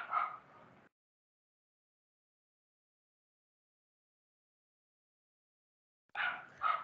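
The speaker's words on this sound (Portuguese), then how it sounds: "o cachorro estava fazendo bastante barulho" A dog barks in two short, faint bursts separated by several seconds of silence, each a quick cluster of sharp yaps heard from a distance.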